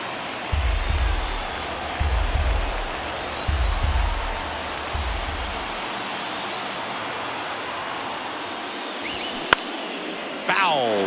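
Stadium crowd noise from MLB The Show 23 during a ninth-inning postseason Cubs vs Cardinals game: a steady, broad crowd roar with rhythmic low thumps early on and a sharp crack near the end, without speech.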